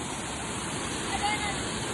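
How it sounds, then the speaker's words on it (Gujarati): Water of Bhikhu waterfall in the Dang region rushes in a steady, even wash of broadband noise, moderately close and constant throughout. "જો ગાઈઝ આ ભીખુ ધોધનું પાણી છે"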